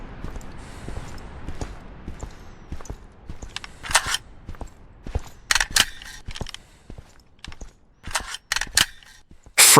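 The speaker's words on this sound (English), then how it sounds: "Shots fired." Gunfire from a police video game trailer: irregular sharp gunshots, some in quick bursts, others single, crack through a tense scene with clicks and thuds between them, ending on a loud blast.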